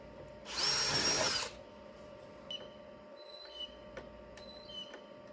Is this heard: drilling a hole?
yes